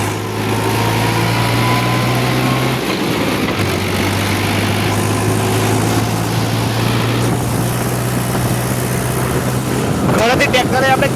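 A Swaraj tractor engine drones loudly at a steady pitch while driving out to the fields, a constant close mechanical hum with a brief dip partway through and clattering toward the end.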